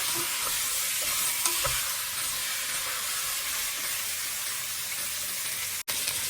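A steady, loud sizzle of chicken pieces sautéing in hot oil and their own rendered fat for Filipino chicken tinola soup, with occasional scraping stirs and a brief cut near the end; nobody speaks.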